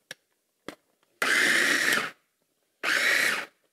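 KitchenAid 3.5-cup mini food processor chopping onion, two loud whirring motor bursts of under a second each separated by a pause, preceded by a couple of sharp clicks from locking the bowl.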